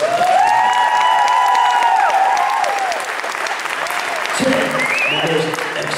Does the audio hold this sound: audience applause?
yes